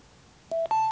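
A Cytem Sound-10 Bluetooth 4.0 speaker gives its pairing signal: two clear electronic beeps, a short tone followed by a slightly higher, longer one. Both are crisp and close against a quiet background.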